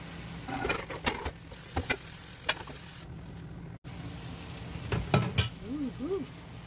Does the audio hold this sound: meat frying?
yes